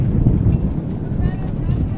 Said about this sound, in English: Big gust of wind there, my goodness.